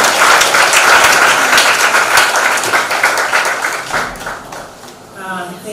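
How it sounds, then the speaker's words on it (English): A crowd at an academic conference and awards ceremony claps steadily and fairly loudly for several seconds. The applause thins toward the end as a voice begins speaking. "A round of applause."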